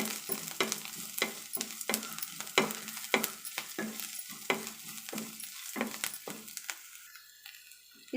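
Cut green chillies fry in a pan under a soft sizzle, with a regular rhythm of spoon strokes scraping and stirring that stops shortly before the end.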